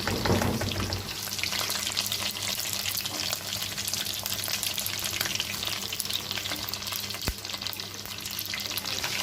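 Chicken wings deep-frying in hot oil, a steady dense crackle and sizzle close up, continuous throughout with no voices.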